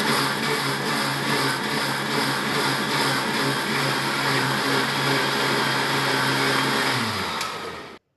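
A kitchen mixer blends mango pulp with a little sugar and milk, a steady loud motor whir running continuously for about seven seconds before winding down at the end.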